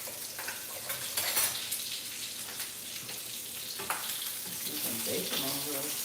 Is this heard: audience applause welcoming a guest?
no